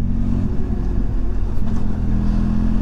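A 2023 Benelli TRK 502 X motorcycle rolls over a speed bump taken a little harder, its steady engine rumble and road noise loud and close throughout with no sharp impact standing out.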